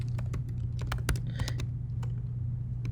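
Quick, light typing on a computer keyboard, a burst of clicky keystrokes over a low steady hum, fairly close and alone with no talk.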